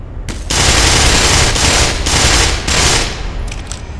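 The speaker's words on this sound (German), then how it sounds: "So, von wo haben die anderen geschossen?" Soldiers firing automatic weapons in the video game Black Mesa, loud sustained bursts of rapid gunfire in several pulses that trail off at the end.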